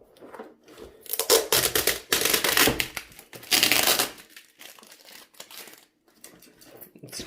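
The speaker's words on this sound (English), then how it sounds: "here now I'm going to unbox the HP gaming keyboard" Packaging of an HP GK400F gaming keyboard being torn open and crinkled up close: bursts of ripping and crumpling, loudest in a few heavy rips, with quieter rustling pauses between them.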